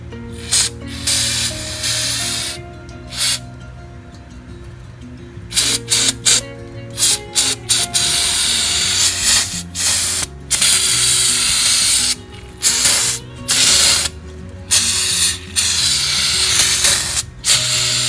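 Brake cleaner sprayed onto Jeep Dana 35 differential parts during pinion bearing work. Loud hissing aerosol bursts of varied length, separated by short pauses, sound close up.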